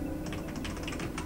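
Computer keyboard keys pressed in quick, uneven bursts of sharp plastic clicks during a game, close and steady for the whole moment with no voices.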